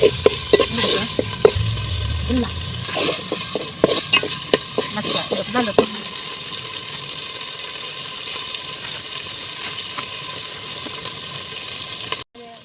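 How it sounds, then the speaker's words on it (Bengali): Meat with spices braising and stir-frying in a pot for soft Bengali khichuri, a steady sizzle with close scraping stir strokes in the first six seconds, then a quieter simmering hiss. "আম্মু মাংসটাকে ভালোভাবে কষিয়ে নিচ্ছিল"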